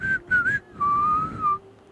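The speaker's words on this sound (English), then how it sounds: "Pardon my porous whistle." A person whistles near a boys' high school baseball semifinal game: three quick clear notes, then a longer sustained, gently wavering tone, loud and close with no talking.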